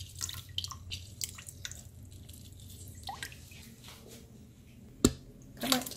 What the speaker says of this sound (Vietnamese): Sau nước này các bạn cũng vắt một chút nước cốt chanh.